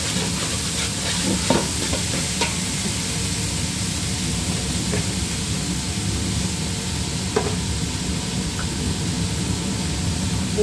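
Onion frying in a pan with turmeric, a continuous sizzle under intermittent stirring scrapes and a few sharp clinks, steady and close, with no voices.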